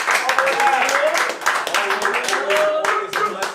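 An audience claps for the performer Abstrakt on a talk show, a dense steady patter of hands lasting a few seconds, with a voice speaking over it.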